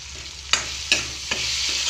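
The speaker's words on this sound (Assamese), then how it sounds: "এতিয়া ভালদৰে লৰাই দিম।" Boiled potatoes stirred in a hot pan with turmeric and salt for an Assamese fish curry: a constant close sizzle of frying, broken by three distinct scraping stir strokes, with no talk.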